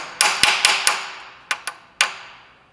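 Several sharp metallic hammer strikes drive a seal into place during a transmission filter change on a Buick LeSabre 440-T4/4T60 transmission, delivered in an irregular series of close, loud taps with brief ringing decay.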